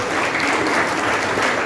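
Dense, steady applause from an audience fills the moment, loud and close, with no gaps and no clear voices.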